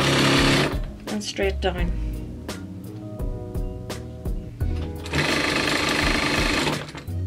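A sewing machine runs a straight seam on a child's jogger made from a hoodie, with loud steady motor bursts at the start and end separated by a stop-and-go back tack, while someone talks between runs.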